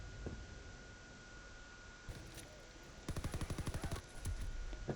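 Gunfire in Call of Duty WWII during a tank battle: a scattering of single shots, then a rapid machine-gun burst of about a dozen evenly spaced rounds, followed by more heavy firing, all fairly faint.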